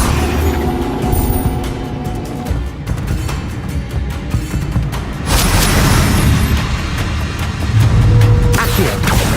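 A Levioso levitation spell goes off in Hogwarts Legacy. A sudden, loud whooshing boom swells midway through, and another burst follows near the end, over steady low game rumble and clatter.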